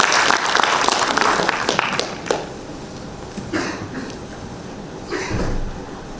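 Applause from an audience at a council policy forum on support for small businesses: a dense burst of clapping at the start thins into scattered claps and fades out, with a few isolated bumps near the end.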